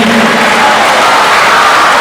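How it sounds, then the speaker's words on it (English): Audience applause at a middle school awards day: a steady wash of clapping from a crowd, even and sustained throughout. "Round of applause"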